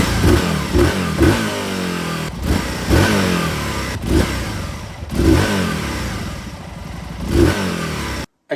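An Aprilia Futura RST 1000 sport motorcycle engine idles roughly close by, its throttle blipped into sharp, loud revs again and again in a steady rhythm before cutting off.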